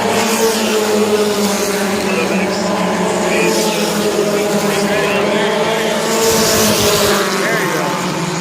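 Race cars running side by side at Langley Speedway, a short oval, their engines droning loudly and continuously with shifting pitch as they pass, while an announcer talks over them.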